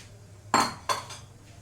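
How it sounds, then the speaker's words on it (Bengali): A lid clanks down onto a cooking pot of thin chicken curry: two quick metallic knocks, near and fairly loud, the second a little softer. "এবার একটা ঢাকা দিয়ে দিলাম।"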